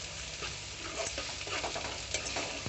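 Ginger garlic paste fries with onions in a pan for an egg curry, a soft, continuous sizzle with faint stirring scrapes and light crackles, quiet and close, with no voices.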